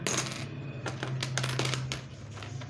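Coins clink as they are dropped and handled, a burst of metallic jingling at the start followed by several sharp, close chinks, with a low steady hum underneath and no talking.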